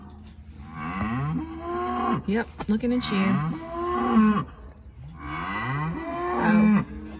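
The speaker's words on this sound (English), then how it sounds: "Silly cows." Cattle on a farm moo in several long, drawn-out calls, loud and close, with a man's brief remark heard between them.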